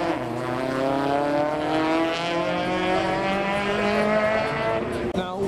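Modified Ford Fortuna and Renault Clio race cars accelerating hard, their engines rising in pitch through gears in a loud, sustained roar close by, with a brief squeal near the end.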